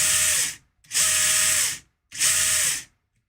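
An RC car's electric motor on a Hobbywing speed controller spins up in three loud, close whirring bursts, each with a whining tone that sweeps downward, with short silent gaps between them.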